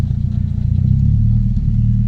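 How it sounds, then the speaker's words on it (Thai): A Mitsubishi 4G91 twin-cam engine with a converted vacuum system idling at around 900 rpm with the air conditioning on, a loud steady low rumble with a fast even pulsing throb. "เปิดแอร์ รอบนิ่งนะครับ โอเคนะครับ รอบเครื่องยนต์ก็อยู่ประมาณ 900"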